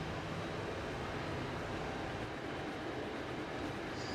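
A Roblox train rolls steadily along the tracks in a continuous, dense rumble that stays even and fairly loud, with no talking over it.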